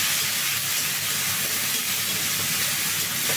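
Green chillies drop into hot oil in a home kitchen while rohu fish is cooked with sweet pumpkin. The sizzle is a constant, loud hiss that fills the whole short stretch, close by, with no voices.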